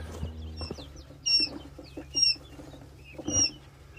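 Young chicks being carried in a bucket into a brooder house give high, thin cheeps in scattered bursts over quiet low handling noise and occasional thumps.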